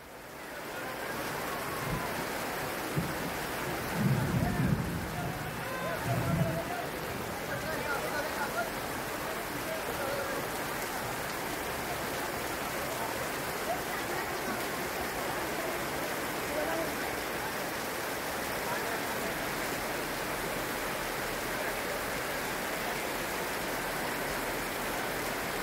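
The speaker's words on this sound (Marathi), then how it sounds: "अचानक 2:30 वाजण्याच्या सुमारास विजांच्या कडकडाटासह पावसाने कोसळण्यास सुरुवात केल्याने" Heavy rain falls on a weekly market in Lanja during a thunderstorm, a steady hiss of downpour throughout, with a couple of brief low rumbles early on; no voices stand out.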